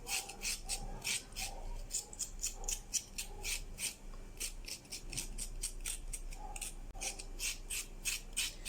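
A carrot's skin is scraped with a blade in a steady run of short, rasping strokes, fairly faint but close and rhythmic.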